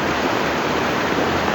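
Floodwater from Southville surges past in a dense, steady roar of rushing water, loud and close, with no voices over it.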